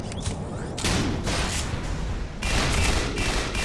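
Machine gun fire in the video game Tribes Ascend crackles in two dense bursts, each sustained for over a second and broken by a brief gap, loud and close with no talk over it.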